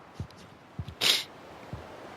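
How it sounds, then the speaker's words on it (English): A single sharp sneeze bursts out about halfway through, near and loud, set between soft breaths and small mouth noises in an otherwise quiet room. "Oh, I'm going to sneeze again."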